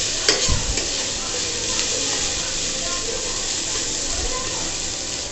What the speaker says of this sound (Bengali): পেঁয়াজগুলো একটু ভাজা হয়ে গেছে, অল্প ভেজেছি আমি